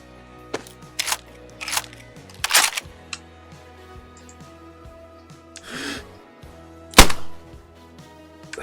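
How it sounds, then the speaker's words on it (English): A suppressed gun being loaded in the video game Screaming Dayz: a string of sharp mechanical clicks and thunks, spaced apart, with a soft slide sound and a final loud metallic clack, close and without talk. "Now with the suppressor on, you gotta load your gun, Jonathan."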